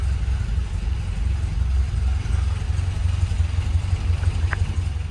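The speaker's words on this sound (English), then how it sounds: "She's still cold, but she runs smooth even with a cold engine." A 1969 MGB sports car engine idles cold, a steady low rumble with a smooth, even beat running throughout at close range, no voices.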